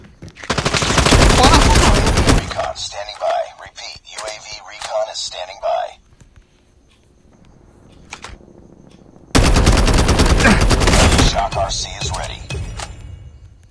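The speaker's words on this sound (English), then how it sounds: "He's firing." Enemy automatic gunfire in a shooter video game rips out in two long, loud, close bursts separated by a stretch of quieter movement. Players talk between the volleys.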